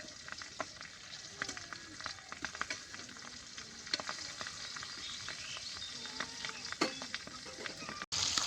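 Pangas fish fries in a hot pan, a steady close sizzle and crackle with scattered sharp pops and spatters running throughout, with no voices.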